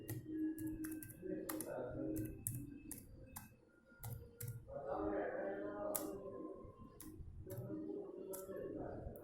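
Fingers typing on a computer keyboard while entering code: quiet, irregular clicking keystrokes in quick bursts, with soft speech-like murmur underneath.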